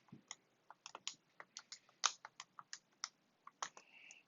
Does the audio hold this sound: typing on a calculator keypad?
yes